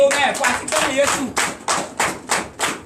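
A church congregation at a Sunday service claps in a steady rhythm, a series of sharp, evenly spaced claps close by, with a preacher's voice heard at the start.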